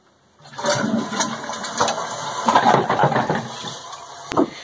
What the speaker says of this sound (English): yes, it flushes, but you have to pull up